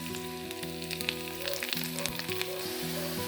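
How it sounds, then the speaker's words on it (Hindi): Garlic sizzles and spits in hot oil alongside cumin and coriander for a dal tadka, a steady close crackle running throughout with soft tonal music beneath. "थोड़ा लहसुन डालूंगी।"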